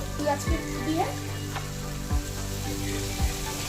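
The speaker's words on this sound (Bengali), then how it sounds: "এবার এখানটা হচ্ছে মাছ রান্না হচ্ছে।" Fish curry with onion cooking in oil, a steady close sizzle with a few soft stirring thumps; faint voice-like tones drift through briefly.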